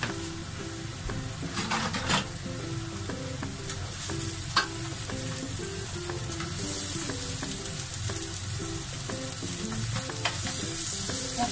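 Garlic and chili stir-fried in a pan for Thai kaprao, a steady sizzle with repeated scraping of a spatula and occasional metallic clinks, close and continuous without talk.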